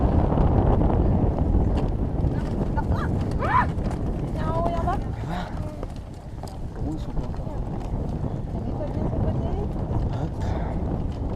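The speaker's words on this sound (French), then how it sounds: "Ah oui, le vent forcément." Wind roars across the microphone during an outdoor long-distance walking challenge between Cholet and Noirmoutier, a constant low rumbling buffet, while people talk and call out nearby.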